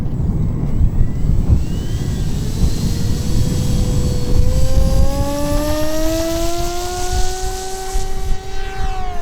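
A Durafly Me-163 V2 RC model plane takes off, its electric ducted fan whining loud and close, the pitch climbing steadily as it accelerates away over a constant roar.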